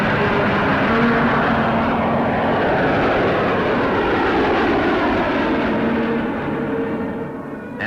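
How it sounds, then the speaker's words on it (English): A de Havilland propeller-driven aircraft in flight gives a loud, steady engine drone that holds evenly throughout and eases slightly near the end, with no voices. "It flew extremely smoothly and responded to controls in the best way that our de Havilland aircraft usually did"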